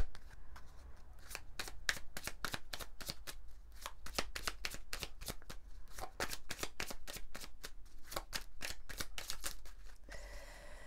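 Oracle cards of a small angel deck being shuffled by hand, a rapid run of crisp papery riffles and snaps repeating steadily for about ten seconds, close and fairly quiet with no talking.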